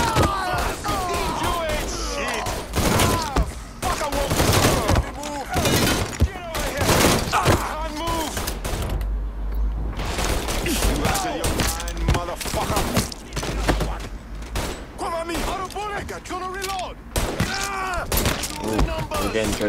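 Repeated gunshots in Mafia 3 gameplay, sharp bursts scattered throughout amid loud game sounds, with someone talking over the action.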